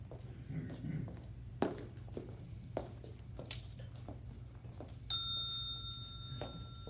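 A bell rings once at a political candidates forum in Enterprise, Alabama, with a bright metallic strike, its clear tone ringing out and slowly fading over a quiet room with scattered small noises.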